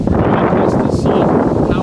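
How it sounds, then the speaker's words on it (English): Strong wind blowing across an open field on a very windy day, a steady, loud roar buffeting the microphone for the whole stretch with no let-up. "So I went out to a field on apparently a very windy day"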